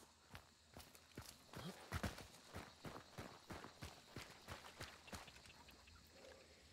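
Horse hooves clip-clop in a video game, a quiet, steady string of sharp hoofbeats trotting at a regular pace for several seconds over a faint background, with no voices.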